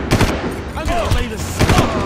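Bursts of gunfire in the video game Far Cry, loud repeated shots in short clusters with busy game sound and a voice mixed in.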